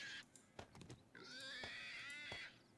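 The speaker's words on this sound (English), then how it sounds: "Oh, did we just get a pig in the pit?" A pig in the 7 Days to Die video game gives a few short grunts, then a long, drawn-out squealing cry, heard close and alone with no talk.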